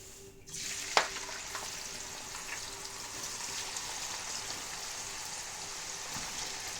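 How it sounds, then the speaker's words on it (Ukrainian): Potato sticks for french fries hit hot oil and burst into a steady, dense sizzle that carries on evenly at close range, with a sharp clack near the start. "Зараз попробуємо пожарити. Ось. Щоб було нам смачно. Так, олій гарячий."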